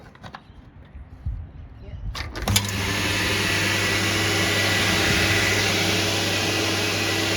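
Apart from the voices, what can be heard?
1985 Karcher coin-operated car vacuum cleaner running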